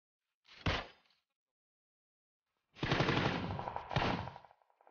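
Gunfire in the shooter game PUBG: a short burst of automatic fire, a pause, then a longer sustained loud burst with repeated sharp shots.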